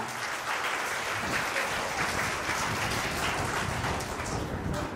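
Crowd in a newly opened school auditorium gives sustained applause, a dense, even patter of many hands clapping throughout, loud and unbroken with no talk over it.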